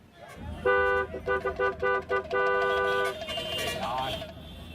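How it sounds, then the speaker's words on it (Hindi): A car horn honks repeatedly in short bursts, then holds one long blast, loud and close over traffic noise. "ये जो तुम धड़ाधड़ हॉर्न बजा रहे हो"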